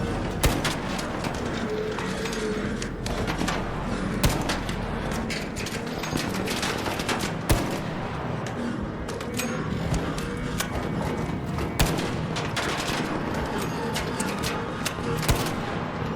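Gunfire in ARC Raiders aimed at an enemy machine: a continuous clattering stream of sharp shots and mechanical rattles over steady background noise, with no talk.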